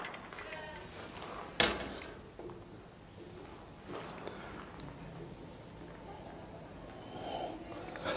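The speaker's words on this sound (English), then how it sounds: "we need to take a sniff" Someone sniffs a whiskey sample drawn from a cask with a valinch. One sharp, close inhale stands out, followed by faint nasal breaths and small handling noises in a quiet room.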